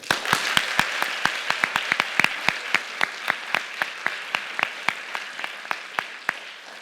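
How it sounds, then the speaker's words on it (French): At the final of a student eloquence contest at Sciences Po Saint-Germain, sparse audience clapping makes sharp individual claps in a loose, irregular rhythm, moderately close and fading slightly toward the end. "Veuillez applaudir chaleureusement Monsieur Charles Rodwell."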